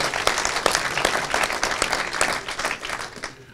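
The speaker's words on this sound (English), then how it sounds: "So give yourselves a big round of applause" An event crowd at the Arnold Classic 2016 gives a big round of applause: many hands clapping in a dense, crackling burst that stays loud and then eases off slightly toward the end, with no talk over it.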